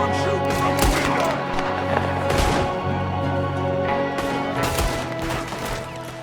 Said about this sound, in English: There's another one shooting from the window.